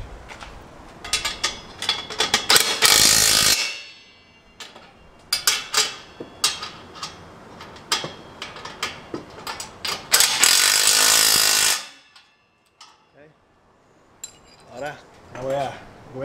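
Tightening the bolts on a 2.5-inch dual sports exhaust muffler of a Subaru Impreza, with repeated close metallic ratchet clicks in bursts, pausing briefly between runs.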